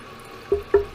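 Water refilling a toilet bowl in a home toilet under DIY repair, three short drip-like splashes landing close by at steady intervals over faint background hiss.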